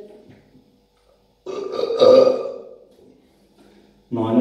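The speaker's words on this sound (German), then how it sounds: "Oh, mir läuft schon der ganze Speichel in den Mund von lauten Rülpsen." A single long, loud burp rises and fades over about two seconds, recorded close, with a short vocal sound just before it and another starting right after.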